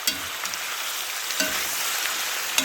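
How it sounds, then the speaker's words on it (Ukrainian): Small taranchuk fish frying in a pan give off a steady, close sizzle and hiss with occasional soft pops and spatters; no one speaks. "тут у нас вже шквариться, париться таранчук, сковорідка наша, баби Ганни ложка"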